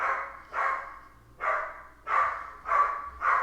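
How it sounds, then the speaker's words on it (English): Dog barking indoors, six loud, evenly spaced barks roughly every half second, each sharp and fairly close, with quiet gaps between and no talking. "Sorry about my dog if you hear."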